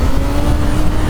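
A Kawasaki Z H2 motorcycle revving hard at high RPM, a loud, dense and continuous engine roar sustained through the whole brief moment.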